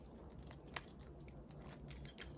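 Keys jangle in short metallic bursts, faint and close, over a low background hum with no voices.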